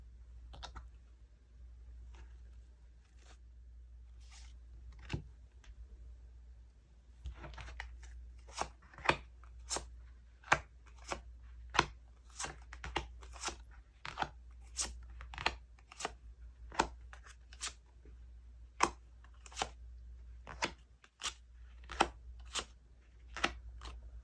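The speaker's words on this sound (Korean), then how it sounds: "파랑님들 카드 오픈 해볼게요." Tarot cards are handled and laid out on a surface, with sparse soft taps and flicks that grow busier partway through over a quiet, low background hum.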